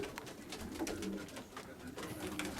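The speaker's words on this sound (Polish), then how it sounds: "To jest gołąb naszej hodowli, u nas wyhodowany." A pigeon coos softly in low, throaty murmurs, quiet against faint background noise.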